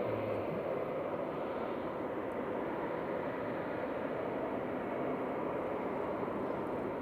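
Steady broadband roar of a Ryanair airliner at Manchester Airport, a loud continuous engine rush holding evenly throughout with no voices.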